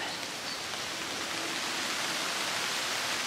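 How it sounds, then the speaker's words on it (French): Rain falls steadily over the Monts d'Arrée countryside as an even, dense hiss that neither builds nor fades. There is no talking. "Et il pleut."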